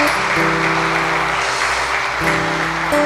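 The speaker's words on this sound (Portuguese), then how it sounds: "Glória a Deus, vamos aplaudir Jesus." Church congregation clapping to praise Jesus after a sermon, a dense continuous applause over held keyboard chords, fairly loud and unbroken throughout.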